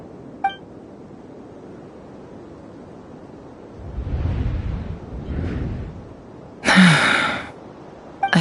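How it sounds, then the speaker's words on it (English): A character's gasp in the Genshin Impact quest Elégie sous la lune évanescente, a short breathy intake of breath standing alone against a quiet ambient bed with a faint low rumble before it. "I heard Yehuda gasp"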